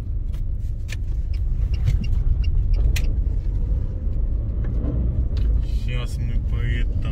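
A car drives along an asphalt lane through a Kazakh village, its engine and tyre rumble steady and close throughout, with faint clicks and knocks over the top.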